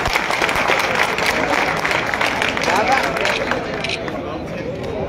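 A crowd at a political event claps loudly to welcome Ramesh Chennithala, five-time MP and Kerala leader. The clapping is thick and continuous, and voices and chatter mix through it.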